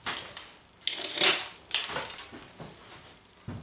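Foam being cut by hand to shape a cutlass and a knife for experimental foam weapons, heard as several close scraping, crunching cuts in short bursts with brief pauses between them.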